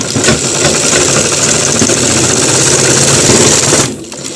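A sewing machine stitches a single-welt pocket on a garment, running steadily with a dense mechanical whir for about four seconds before winding down at the end; no voices.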